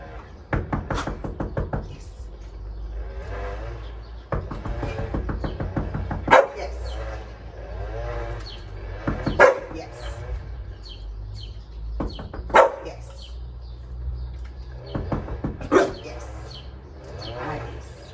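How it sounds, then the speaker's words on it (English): Knocks on a door followed by a dog barking, repeated several times: short rapping bursts, then sharp nearby barks, with brief gaps between rounds. "First you knock on the door, then the dog barks."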